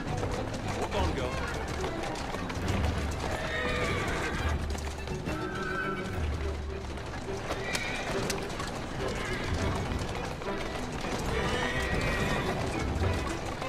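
Horse whinnies and clip-clopping hooves in Assassin's Creed Syndicate over a dense, continuous game soundtrack, with a person talking throughout.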